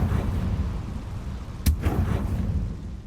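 Confringo blasting spell from the Hogwarts Legacy video game, tamed-creature quest setting: a sharp broadband blast near the middle over a heavy low rumbling bed, followed by a softer rolling burst and sustained booming background.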